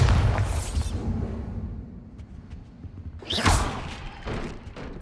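A Bombarda blasting spell striking in Hogwarts Legacy: a heavy booming thud with a whoosh up front, then a second sharp impact and rumble a few seconds later, loud and close.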